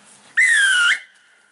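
A referee's whistle gives a single firm blast of about half a second to signal a try in rugby, loud and clean, then stops with a short fading tail and no talk.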